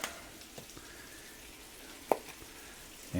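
Low-carb home fries with garlic and black pepper cooking in a pan, giving a soft steady sizzle with a few small pops and one sharper tick, close and fairly quiet.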